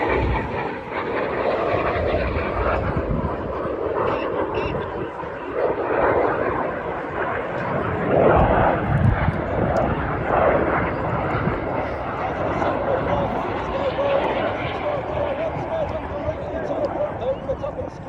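Red Arrows jets fly low over an airfield for the synchro double roll, a sustained loud roaring jet rumble with a commentator talking over it throughout.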